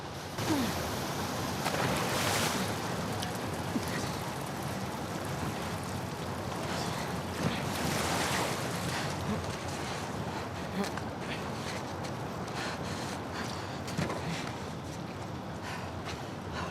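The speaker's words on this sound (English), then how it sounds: "the player was faced with a fast-flowing torrent of water they couldn't cross" Rushing torrent of water in The Last of Us Part II, a steady broadband roar like heavy surf or rain that holds throughout at an even level, with a voice speaking over it.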